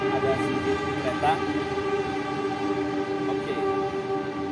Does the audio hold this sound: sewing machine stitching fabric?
no